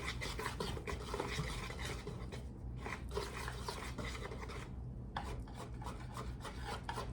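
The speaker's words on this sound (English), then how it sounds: "I'm just gonna start off slow and then pick up the speed of mixing it." Electric mixer blending a flour batter for pumpkin bread, a steady close whirring rasp that runs continuously with no pauses and no talk over it.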